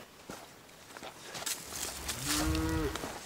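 A cow gives one long low moo, fairly close, over a rustling outdoor background with a few scattered thumps and footsteps on a hike along the Upper Paria.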